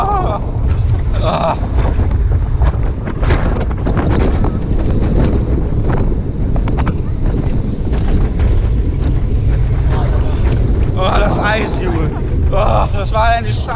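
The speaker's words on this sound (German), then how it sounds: "Ganz schön windig hier, ne?" Strong wind buffets the microphone with a constant loud roar throughout, while people talk and exclaim intermittently over it, on the Booster Bike ride at Toverland theme park.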